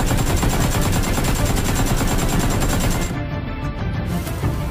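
Loud gunfire sound effect fills a school annual function stage show, a rapid machine-gun rattle of steady repeated bursts that runs for several seconds before easing slightly near the end.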